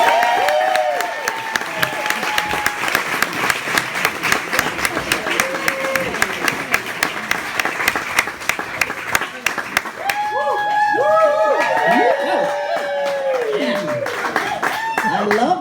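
A live audience claps and cheers with whoops at a Melissa Etheridge fireside chat in the Gibson Austin showroom, applause sustained and dense, rising whoops standing out toward the end.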